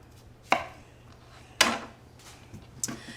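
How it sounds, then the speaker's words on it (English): A knife cutting the ends off a sweet potato on a cutting board, three crisp chops spaced about a second apart, close and clear against a quiet kitchen. "What I like to do is just cut off the ends"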